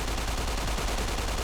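Video game gunfire from a gun fitted with an improvised oil-filter suppressor: a dense, steady stream of muffled rapid shots with no break across the whole short stretch, loud and close, with no talk.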